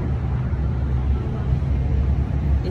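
Low engine rumble and road noise inside a moving bus, a steady drone with no voices.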